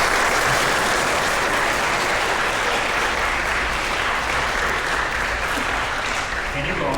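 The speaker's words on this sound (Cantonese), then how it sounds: "都俾啲掌聲啦！" Loud, sustained applause from the guests at a wedding ceremony, continuous clapping filling the whole stretch and tapering slightly at the very end.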